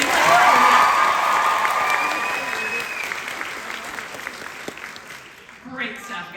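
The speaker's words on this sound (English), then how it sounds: "Give them another round of applause for being so" Loud convention-panel audience applause with cheering and a few shouts, at its strongest at first and then slowly fading, with a voice coming in at the end.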